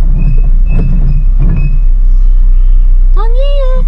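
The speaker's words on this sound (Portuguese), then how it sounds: "Esse freio desse carro tá barulhento" Noisy car brakes let out a rising, tonal squeal near the end, following a stretch of people talking over a low engine rumble inside the car.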